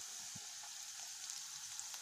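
Onions frying in mustard oil with ginger-garlic paste just added, a steady faint sizzle and crackle throughout with a soft low knock near the start.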